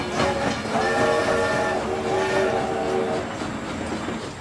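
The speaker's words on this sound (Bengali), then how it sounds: "একটা ট্রেনের ইঞ্জিন আসছে, তারই বাঁশি বেজেছে।" A train engine approaches at night with its whistle blowing in long, steady tones over the rumble and clatter of the rolling train, loud and close.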